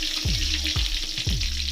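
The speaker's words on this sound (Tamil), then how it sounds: "ஒரு பாத்திரத்தில் கொஞ்சோண்டு எண்ணெய் ஊற்றி சூடு பண்ணிக்கோங்க" Small amount of oil heating in a pan for a spicy sea crab dish, sizzling loudly and steadily with a broad hiss, punctuated by three low rumbling thumps at regular intervals.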